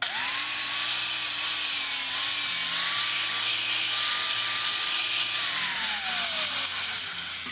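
A power tool bevels the edge of a wooden piece in a coach shop, a loud steady whine holding one pitch for several seconds before winding down near the end, with no talking.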